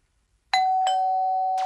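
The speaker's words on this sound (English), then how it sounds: "It sounds like a doorbell." A cartoon siren that comes out as a doorbell-style chime: two quick struck tones, then a steady ringing note with bright overtones and a short falling swoop at the end, loud and alone.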